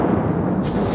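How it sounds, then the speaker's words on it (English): A dynamite blast at Whistler Blackcomb ski resort sounds as a heavy, low, booming roar that fills the whole second without a sharp onset, distant and rumbling. "Jen, you might get fireworks, but we get dynamite"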